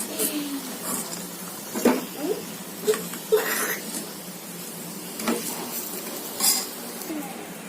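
Raw banana vadas fry in hot oil with a continuous soft sizzle, while a metal spoon or slotted ladle clinks and scrapes against the pan several times as the vadas are lifted out, close by.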